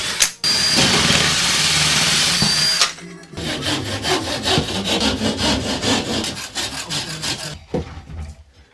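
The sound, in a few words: saw cutting board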